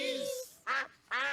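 Mrs Duck from Peppa Pig gives a cartoon quack, a voiced call over a short bright squawk, followed by two louder, brassy quack bursts close and clear.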